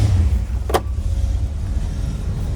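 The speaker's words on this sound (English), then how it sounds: "Blower motor works." Blower motor of a 1965 Pontiac GTO with a 389 engine, a low steady fan hum inside the car with a brief sharp click near the start.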